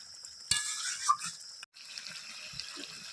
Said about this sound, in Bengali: একবারে ফুটন্ত গরম জল অল্প দেবো